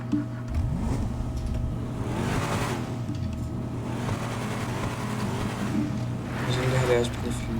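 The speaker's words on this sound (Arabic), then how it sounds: "خلينا نسمع صوت السيارة" A 2022 Toyota Hilux engine in GTA 5 revs with rising and falling tones, running steadily over the full stretch, with a voice audible faintly underneath.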